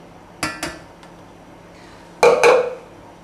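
Utensils stirring beaten egg whites into chocolate soufflé batter, heard as a few sharp clinks against a bowl, then a louder cluster of scraping knocks, with quiet pauses between.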